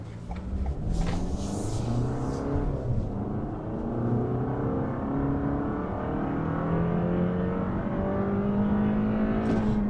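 A 2021 Toyota Avalon with a 2.5-litre four-cylinder engine on the road, heard as a steady low engine drone with tones that rise and fall as it accelerates and shifts. The drone is loud and continuous, and no one talks.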